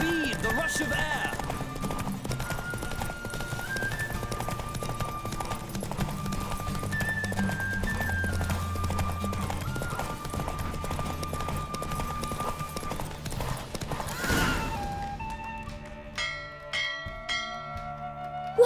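Horse galloping in a race in the video game The Witcher 3, steady rapid hoofbeats under a game music score with bell-like tones, ending with a flourish of bright chimes.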